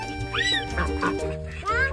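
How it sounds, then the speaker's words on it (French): Ducks quack and fowl call in a farm poultry house, a few short nasal squawks close by, with a voice speaking at moments. "Qu'est-ce qu'on trouve chez l'Elfrisch Family dans les poulaillers? Oh, des canards, des poules, des coqs."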